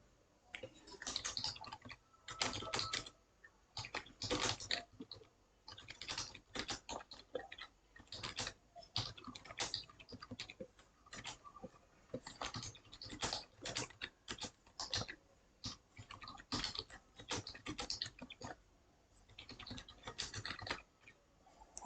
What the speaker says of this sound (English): Now I have written everything in the insert mode.